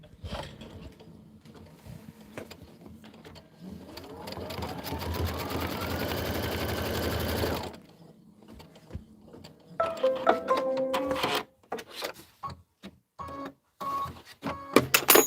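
Kimberbell embroidery machine stitching a trim placement line on quilt fabric: a close, steady mechanical whir for several seconds, then stops, followed by intermittent clicks and handling knocks.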